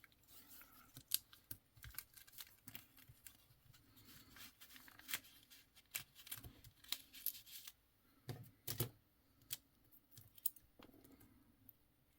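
Scissors snip through paper in a fussy-cut craft session for a pocket letter junk journal, producing many quiet, irregular close crisp snips and rustles at a desk, with no talking.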